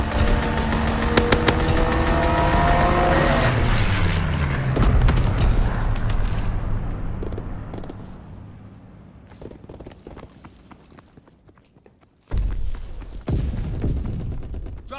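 Enemy bombs explode in the World War II shooter Call of Duty: WW2: a heavy booming blast rolls and fades over several seconds, then another loud, sudden explosion erupts near the end.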